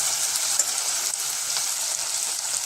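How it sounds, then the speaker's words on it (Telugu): Ginger garlic paste frying in a pan while a vegetable biryani is cooked, a steady close hiss and sizzle with no voices over it. "ఇప్పుడు అల్లం వెల్లుల్లి పేస్ట్ వేసుకున్నాం."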